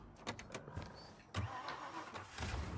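A car engine cranks and catches in the video game Mafia Definitive Edition, a low mechanical churn with a sharp start burst partway through, heard faintly at moderate distance.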